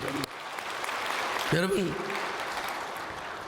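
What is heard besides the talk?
congregation applauding in church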